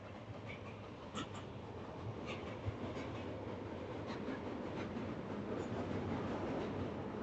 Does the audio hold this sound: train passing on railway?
yes